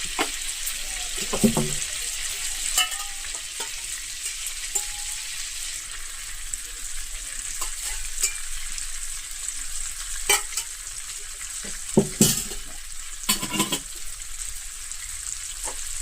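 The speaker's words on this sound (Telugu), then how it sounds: "మనం నానబెట్టుకున్న పచ్చిశనగపప్పు ఉంది కదా, దీన్ని వేయించుకుందాం." Oil frying in a pan with soaked chana dal for a prawn curry, low steady sizzle with intermittent sharp stirring scrapes and clinks, near and moderately quiet.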